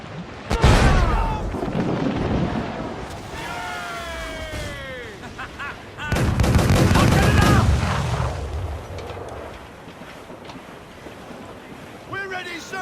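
Ship cannons in Assassin's Creed 4 Black Flag fire in two heavy booming volleys, around one and six seconds, each followed by rumbling decay over ocean ambience, with shouted voices and music in between.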